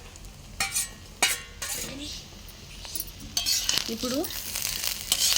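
Chicken fried rice with soy sauce is tossed and stirred in a hot pan, with scraping and clanking of a metal spatula in irregular bursts over a soft sizzle, and someone speaks briefly.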